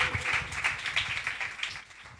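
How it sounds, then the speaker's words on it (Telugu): A church congregation at a Telugu Christian service claps together in a steady rhythm to glorify God, the even beats fairly faint and slightly distant. "చప్పట్లు కొట్టి దేవుని మహిమపరుస్తా"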